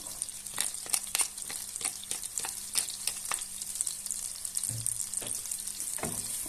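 Onion sizzling in butter in a pan, with a steady crackling hiss and occasional spoon stirs scraping through; near and fairly soft, no talking.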